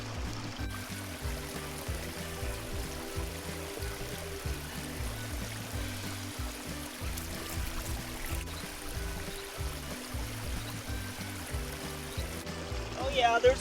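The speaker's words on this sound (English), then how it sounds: "This current is running pretty hard right here, and boy, it just washes this out really quick." A fast, hard-running current in Gold Canyon washing over and through gravel, a constant close rushing and gurgling wash with a low boat-like churn, ending in a brief louder splash.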